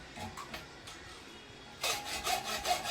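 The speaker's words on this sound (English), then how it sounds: "I don't mind using the big hacksaw, cutting off pieces from the sprue." A big hacksaw cuts pieces off a cast silver sprue in a jewelry studio, starting with light scattered scraping and then settling into steady, close rasping strokes, about three to four pulls in the second half.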